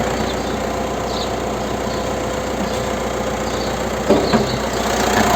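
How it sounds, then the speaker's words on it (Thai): A 2020 Mitsubishi Triton 2.5 GLX pickup's engine idles steadily, loud and close, with an even low rumble throughout and a brief clunk near the end. "สตาร์ทเครื่องก็จะมีเสียงนิดนึงนะครับ"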